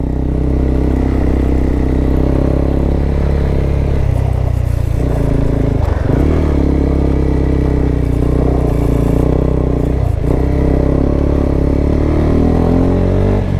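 A KTM 390 Adventure motorcycle engine drones loud and close the whole time, revving up and easing off as the bike rides along the road.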